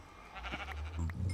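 A sheep bleats in the Minecraft video game, with a short wavering cry sounding twice in quick succession over steady low game ambience, fairly close and moderately loud, with no talking.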